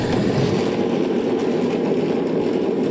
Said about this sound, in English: indicating they have all fired up their engines